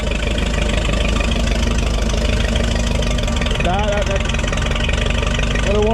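A 1950 Minneapolis-Moline UTS tractor engine idles steadily while warming up after a cold start, a loud, close, continuous low rumble with a knocking pulse, as people talk over it.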